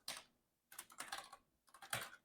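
Three quick bursts of keystrokes on a computer keyboard as code is typed for a Spring Boot web server, crisp and close, separated by short pauses.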